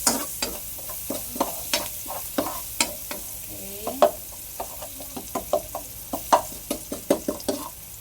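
Garlic and onion sautéing toward golden brown for garlic butter shrimp: a busy oily sizzle under rapid, rhythmic spatula taps and scrapes against the pan, close and steady, without speech.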